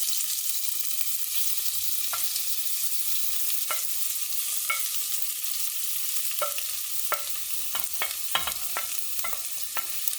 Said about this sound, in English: I'll let this heat for a moment before throwing in the onions and celery